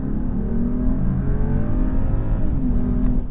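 Mercedes-Benz GLE 450 SUV with a 48-volt hybrid system accelerating hard, a loud, smooth engine note whose pitch climbs steadily, dips at a shift, then rises again.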